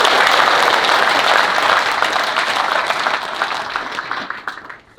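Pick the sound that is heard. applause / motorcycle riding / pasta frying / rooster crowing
applause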